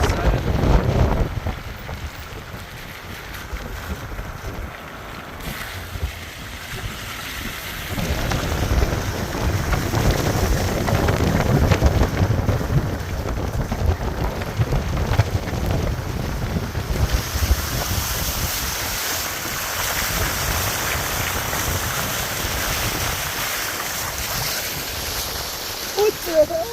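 Heavy rain and rushing runoff during a flash flood on the Navajo Nation roar steadily for nearly half a minute, with gusty wind buffeting the microphone and voices talking throughout.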